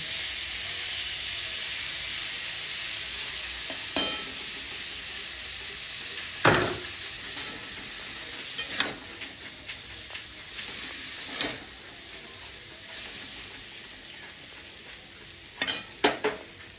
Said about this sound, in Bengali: আমার আলুটা ভাজা হয়ে গেছে, আমি উপর থেকে দিয়ে দিচ্ছি ইপ্পিটা।